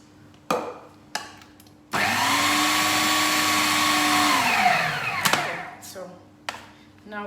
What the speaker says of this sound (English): So we have to keep on pulsing a bit longer until it comes together.